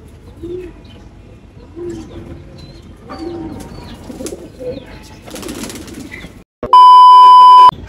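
Pairing white pigeons coo close by in soft, repeated low throaty phrases, with an electronic beep tone at the end.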